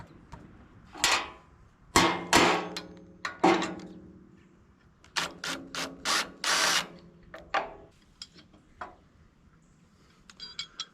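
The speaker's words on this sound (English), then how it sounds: "Still using the 9/16 wrench here." A 9/16 wrench tightens bolts on a Ventrac power rake mod, giving bursts of close metallic ratcheting clicks, some in quick runs of several strokes, separated by short quiet pauses.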